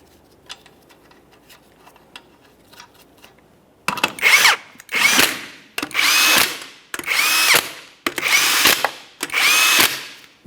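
A cordless power tool tightens the wheel lug nuts on a Jeep Patriot. Five or six loud, close bursts follow one another after a quiet start with faint clicks, each burst whirring and then hammering as a nut seats.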